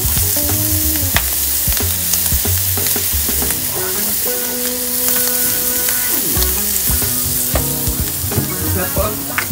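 Squid frying in a pan with garlic and butter, a loud steady sizzle running the whole time with clinks and scrapes of utensils against the pan scattered through it.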